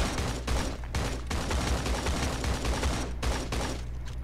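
Rapid bursts of video game gunfire in Creative Destruction crackle in quick succession, dense and loud, with brief gaps between volleys.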